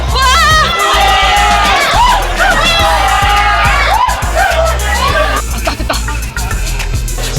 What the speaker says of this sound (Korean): 함성과 탄식이 엇갈리는 순간